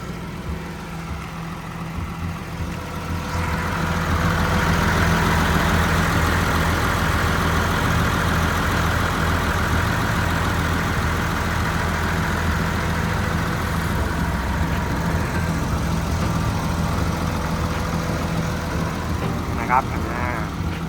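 A Hitachi ZW220 wheel loader's six-cylinder turbo diesel engine (Isuzu 6SK1) idles steadily with a low, constant rumble throughout, someone talking over it.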